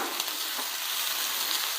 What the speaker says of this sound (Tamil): ஃபஸ்ட்டு இது 3 சேர்த்து நல்லா வதக்கிடுங்கம்மா